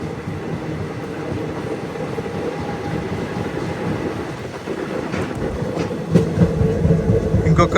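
A special passenger train from Hyderabad to Arunachalam runs past Tirupati West railway station, heard from on board as a continuous, loud rumble with rhythmic wheel clatter that grows slightly louder toward the end.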